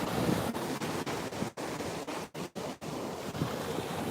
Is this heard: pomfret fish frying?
no